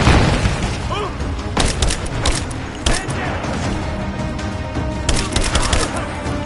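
Bursts of gunfire ring out in the video game Rise of the Tomb Raider, with sharp cracks and scattered shots over a dense, noisy battle background that stays loud throughout.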